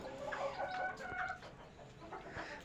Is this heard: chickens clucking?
yes